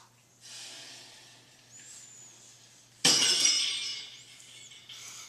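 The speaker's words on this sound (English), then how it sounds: "Let's see, you also have some smashing glass." Glass smashes loudly in a sound-effect ambience app, a sudden bright crash with scattering shards that rings on and trails off over a faint background ambience, with no voices.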